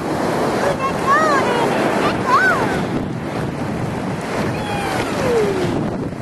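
Ocean waves surge in on a windy beach, a steady loud wash of surf with wind buffeting the microphone throughout and a few faint high whistling calls over the top.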